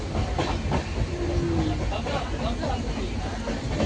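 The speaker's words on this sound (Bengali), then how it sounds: "এখন আমরা ট্রেনে বসে আছি।" A moving passenger train at night, bound for Guwahati, gives a steady rumble and rhythmic clatter from inside the carriage, with people talking over it.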